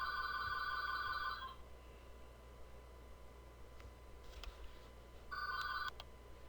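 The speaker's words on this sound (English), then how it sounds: "You will notice the telephone ringing." A telephone rings in a home or office, two bursts of bright electronic trilling with a long gap between, over a steady hum of background hiss.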